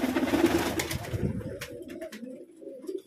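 Pigeons coo in soft, low, throaty calls close by, repeated several times over a brief burst of fluttering and rustling, with no talk.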